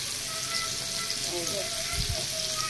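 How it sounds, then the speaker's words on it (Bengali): Paneer pieces fry in hot oil, a steady close crackling sizzle that runs throughout, with faint background voices and a soft low bump near the end. "এই পনির ভাজা চলছে এখন তেলের মধ্যে"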